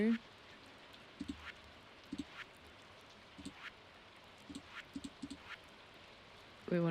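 Rain falls steadily in the Stardew Valley farming game, a soft continuous hiss with scattered drip-like taps, fairly quiet throughout with brief game tones at the edges.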